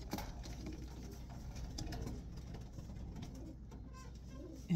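Racing pigeons kept as breeders in a small loft coo softly and continuously at close range over a low background hum, without talk.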